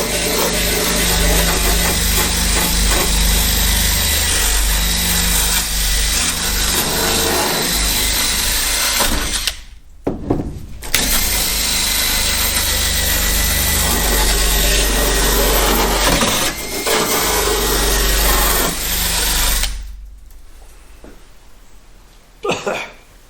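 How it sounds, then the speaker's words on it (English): Harsh, continuous scrubbing from a wire brush working over rusty, pitted sheet metal in the trunk of a Chevy Nova, loud and close, broken by two short pauses and stopping near the end. "I'm going to hit all this with a wire brush and see how much metal is actually left"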